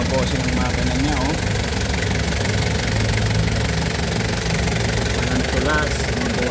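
A 2001 Toyota Commuter van engine, reported with no issues at 270k, idles with a steady, loud mechanical drone and a faint knocking rhythm. Someone talks over it.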